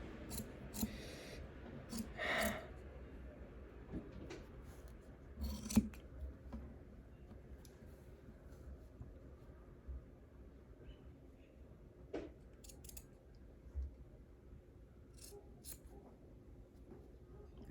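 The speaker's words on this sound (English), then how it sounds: "So now you're gonna take this part and you're gonna cut this part off." Scissors snipping through bikini fabric, scattered short cuts and crisp blade closes over a quiet background with faint handling rustle, sparse and close.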